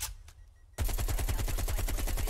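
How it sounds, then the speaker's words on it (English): Automatic gunfire in Call of Duty Cold War on the Nuketown map: a short faint lead-in, then a loud, rapid, sustained burst of rhythmic shots filling the rest of the clip. "Because I was in the window and I was shooting."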